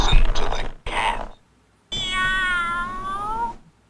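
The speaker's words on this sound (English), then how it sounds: "Listen to the cat." A pull-string toy plays a recorded cat meow: short bursts of noisy sound, then one long, loud wavering mew close by, with no talk over it.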